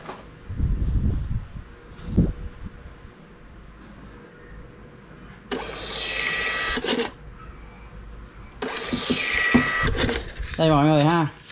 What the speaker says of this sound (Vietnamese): máy in ra tự động cắt giấy cho mình luôn nha